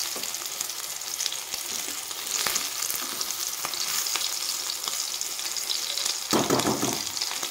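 Lentil and prawn fritters sizzle steadily in hot oil as they are turned over, with a few sharp clinks of the utensil and a louder burst of frying near the end, no voices present.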